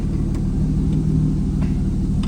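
The 2JZ engine of a Nissan S14 240SX swapped from an AR5 gearbox idles with a low, steady rumble while the gearbox is shifted, producing faint, evenly spaced clicks.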